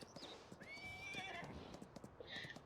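A horse on a farm whinnies several times, its rising calls set over a quick, steady clip-clop of hooves as it runs close by, with no one talking.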